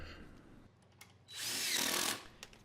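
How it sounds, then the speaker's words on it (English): A power drill drives a long deck screw into a wooden workbench leg in one steady whir of just under a second, close by, with faint shop noise before and after. "going to be screwing this piece into the legs with 3 long deck screws on each side"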